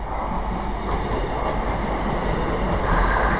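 A London Midland passenger train, Class 153 and 170 units, rumbles past at close range through Bescot Stadium station without stopping, a continuous loud roar of rolling wheels and carriages with no announcements or talk.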